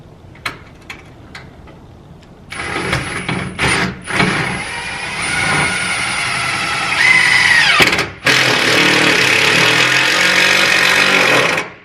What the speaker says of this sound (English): Are you gonna drill right through the shim?